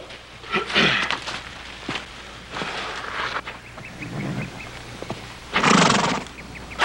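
An injured, bandaged horse whinnies loudly twice, near and clear, with scattered hoof clip-clops and shuffling on the ground between the calls.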